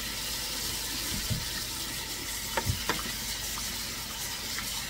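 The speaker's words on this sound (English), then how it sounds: "So I'm just gonna put in some water." Steady water pouring and splashing into a container, a constant rushing wash with a few small clinks, close by.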